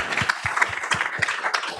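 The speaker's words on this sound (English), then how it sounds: "how about another round of applause for both Paula and Christina?" Brief round of applause from a small audience for two nurse navigators, a scattered patter of claps that ends almost as soon as it begins.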